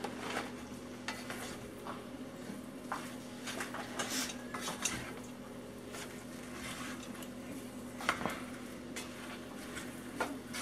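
Cheese mixture stirred in a bowl for homemade hot pockets, giving soft continuous scraping and squishing with occasional light clinks of the utensil against the bowl, close and quiet, with no talking.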